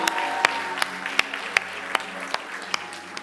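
A church congregation claps in steady rhythm for Jesus, sharp handclaps landing about every third of a second over a bed of crowd noise and cheering, loud and close throughout.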